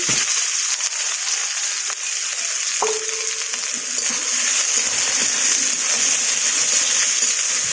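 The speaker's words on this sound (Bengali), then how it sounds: "তেলটা গরম হয়ে গেছে, দিয়ে দিব পেঁয়াজ কুচি।" Chopped onion dropped into hot oil in a kadai, giving a loud, steady broadband sizzle that holds throughout at close range.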